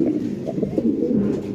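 Fancy pigeons coo in low, throaty, repeated murmurs, close and steady over the short stretch.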